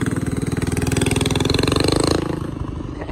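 Dodge Hellcat engine idling through its exhaust pipe, a close, loud, rapid rhythmic burbling pulse that holds steady and then softens slightly toward the end, with no talk.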